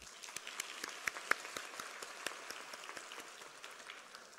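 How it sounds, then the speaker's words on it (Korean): Applause welcoming honored guests at a university degree-conferral ceremony at Kangnam University, a steady wash of clapping from a seated audience with a few sharper individual claps standing out, fairly distant and even throughout. "모두 박수로 환영해 주시기 바랍니다"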